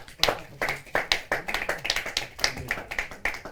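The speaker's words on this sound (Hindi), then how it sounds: "जा जोरदार ताली के साथ।" Audience at a Hindi kavi sammelan poetry gathering claps in irregular, fairly sharp bursts, quiet and somewhat distant, with light murmuring beneath.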